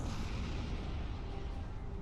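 Space combat in Star Trek Online, with torpedoes and cannons firing as a steady, dense low rumble of weapon blasts that runs loud and unbroken throughout.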